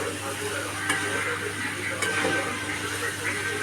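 Vegetables stir-fried in a pan with salt and garam masala, a steady soft sizzle with light scraping stir strokes throughout, fairly close.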